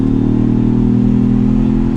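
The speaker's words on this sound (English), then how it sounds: "with a smaller engine, we'll give it a little bit of gas." A steady, loud mid-pitched drone from the four-cylinder engine of a 2021 Ford Bronco Badlands under light throttle while accelerating, an even hum with faint clatter and no voices.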